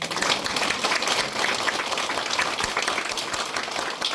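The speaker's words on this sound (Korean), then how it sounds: "이런 게 박수 쳐야 되는 문제예요." An audience at a Korean lecture on nitric oxide precursors and antibiotic resistance applauds: steady, dense clapping throughout, moderately loud and close, with no voice over it.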